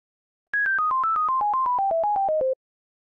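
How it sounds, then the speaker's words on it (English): A sine-wave melody written in channel 1 of a Super Nintendo music tracker: about sixteen short, evenly spaced pure tones stepping mostly downward in pitch, loud and clean against silence. "Let's first write a melody in channel 1 with our sine wave."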